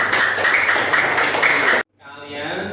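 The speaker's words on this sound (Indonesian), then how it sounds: "beri tepuk tangan kepada temanmu" Schoolchildren in an elementary classroom burst into dense, steady applause for their classmates, their young voices mixed in. The clapping stops abruptly and a short, quieter stretch follows.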